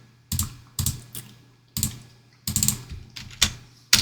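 Computer keyboard keys pressed in a few separate quick bursts of clicks, like a copy-and-paste shortcut, close and fairly quiet with short pauses between.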